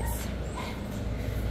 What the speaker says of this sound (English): these are the Shihpoo puppies